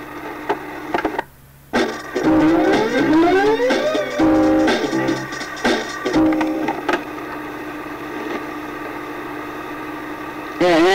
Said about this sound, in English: Yeah, ambulance.